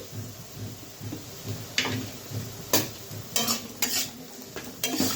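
Small shrimp stirred with turmeric, Kashmiri chilli powder and a little sugar in a pan, giving sharp scraping and clinking spoon strokes in bursts over a soft, steady sizzle, with no talking.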